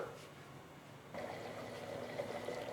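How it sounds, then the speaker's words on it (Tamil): Coconut milk is poured into a simmering village-style Tamil mutton curry, a soft liquid pour that starts partway through and continues quietly to the end. "1 டம்ளர் தேங்காய் பால் ஆட் பண்ணுறேன்."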